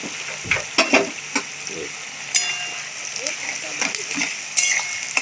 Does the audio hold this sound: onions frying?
yes